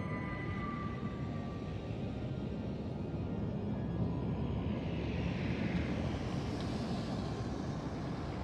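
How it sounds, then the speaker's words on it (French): A spaceship's warp drive engaging in Eve Online: a steady, deep engine roar that swells and brightens partway through, continuous and unbroken, with no voices. "Propulseur de warp activé."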